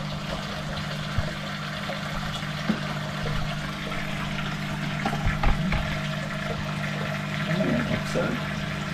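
Aquarium water drains through a siphon hose from a 3 ft African cichlid tank, a steady close rushing trickle that runs throughout with faint handling clicks and bumps.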